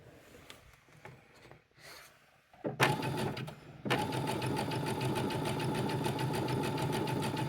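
A sewing machine runs a wide, close zigzag stitch, starting after a few soft handling noises and then whirring loudly and steadily up close.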